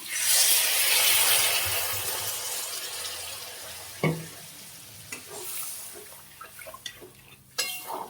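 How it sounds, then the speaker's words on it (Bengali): Water added to a pan of frying fish curry sets off a loud hiss that slowly fades into softer simmering, with a few utensil clinks and a scrape later on and no talking. "এবারে জল দিয়ে দেবো।"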